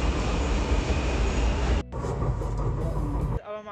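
A Delhi Metro train at Rohini West station gives a loud, steady rumble that breaks off briefly near the middle, resumes, then eases into a quieter tail.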